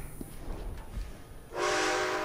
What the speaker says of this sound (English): But do you hear the train?